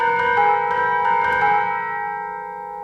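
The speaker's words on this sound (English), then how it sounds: "love those tubular bells" Tubular bells ring out in an orchestral piece, a few bright metallic strikes with long, shimmering sustained tones that slowly fade, loud and close with no talking.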